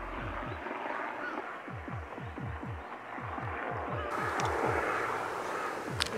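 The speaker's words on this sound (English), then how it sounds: "There keeps flying a helicopter right above me" A helicopter flies overhead, heard as a steady train of rhythmic rotor thumps with a low engine rumble, moderately loud and continuous.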